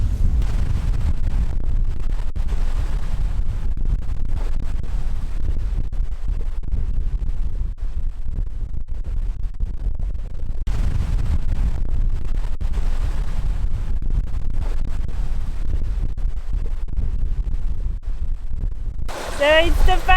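Strong wind roars steadily across a sailboat under sail between Labuan Bajo and Lombok, a dense low rumble with gusts and water wash filling the whole stretch, swelling again midway and ending with a brief sharper rattle.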